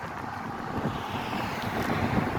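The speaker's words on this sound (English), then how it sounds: "It's windy today." Steady outdoor wind rushing and buffeting against the microphone, continuous and moderately loud, with no voices, while bicycling on Fort Myers Beach, Florida.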